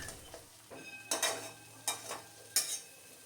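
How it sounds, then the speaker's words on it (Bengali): Scraping stirs and spatula strokes as spice paste is stir-fried in a pan for a mixed-vegetable curry, three sharp bursts over a low steady sizzle, close by with no voices. "এবার মশলাটা কষে নেব"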